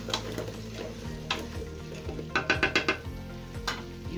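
Vegetable stock cubes stirred into a cooking pot while making succotash, quiet scraping of a spoon against metal with a few sharp clinks and a quick run of taps, over a low background hum.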